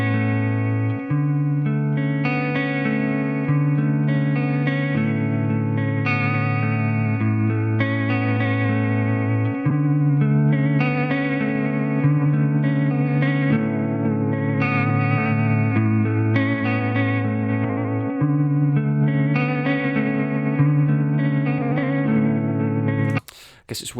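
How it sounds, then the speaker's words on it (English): Sustained guitar chords through a pedal's tape flutter and warble effect, wobbling, warbling pitch and fluttery modulation, played steadily and loud, ending abruptly. "As we turn it up, you start getting that flutter and warble."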